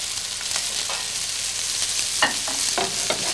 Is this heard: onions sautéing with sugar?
yes